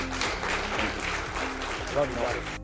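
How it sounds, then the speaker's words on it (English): A podcast audience applauds guest Chris Singleton with a brief patter of scattered hand claps over a low steady hum, with a voice speaking through it. "Would you clap for Chris Singleton, please?"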